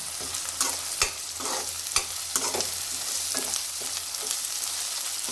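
Curry leaves crackle and sizzle as they hit frying ginger-garlic paste for a brinjal and tomato curry, with steady close hiss, spatter and a few sharp stirring clicks of a spoon against the pan.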